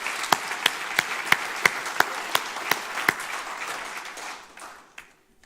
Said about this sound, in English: So let's give Mike a round of applause.